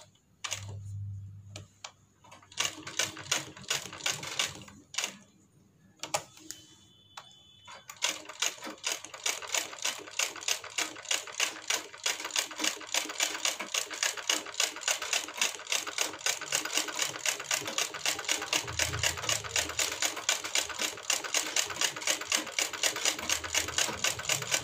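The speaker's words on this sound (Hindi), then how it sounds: "इसके ऊपर अब हम गोल गोल सिलाई लगाते जाएंगे।" Sewing machine stitching round decorative stitches onto a Patiyala salwar hem, short bursts at first, then a long fast rapid-fire run of needle clatter, close and loud with no talk.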